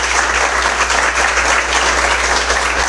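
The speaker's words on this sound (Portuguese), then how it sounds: "Você pode aplaudir o Senhor?" Church congregation applauding during a sermon, loud continuous clapping over a steady low hum, with no speech on top.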